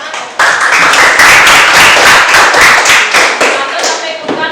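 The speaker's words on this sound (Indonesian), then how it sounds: "Ini tepuk tangan." A classroom group claps together in an Indonesian teaching practice session, a brief burst of dense close hand clapping that starts abruptly and fades after a few seconds.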